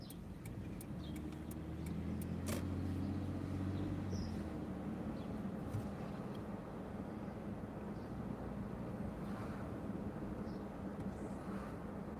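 A white car rolls slowly through the back of a residential neighborhood, a low, steady engine rumble that stays close and swells slightly early on before settling.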